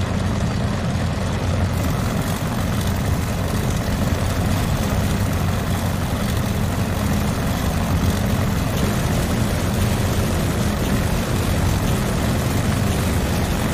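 A propeller airplane engine from the WW2 video game Call to Arms: Gates of Hell drones loudly and steadily without a break, with no talk.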